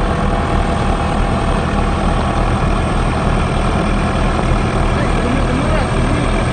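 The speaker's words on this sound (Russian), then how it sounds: "Два трактора." Two tractors clearing snow on Volkovsky Prospekt in St. Petersburg, with a loud, steady, close diesel engine rumble throughout and a voice heard over it.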